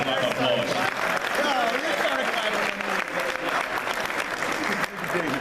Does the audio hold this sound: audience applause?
yes